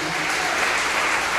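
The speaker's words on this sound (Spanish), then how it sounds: "Denle un aplauso a esta palabra de Dios." A congregation at a Spanish-language church conference bursts into dense, steady applause, a loud continuous wash of many hands clapping with no break.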